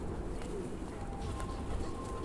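Pigeons coo softly throughout, their low murmuring calls repeating over a steady rumbling background of outdoor noise, with faint chirps above.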